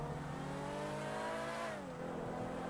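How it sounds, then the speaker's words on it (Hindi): Range Rover engine revving in GTA 5, a steady loud drone whose pitch climbs and then drops briefly before holding again, close and continuous with no voices. "सही आवाज़ है यार गाड़ी की तो"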